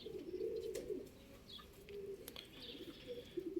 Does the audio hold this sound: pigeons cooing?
yes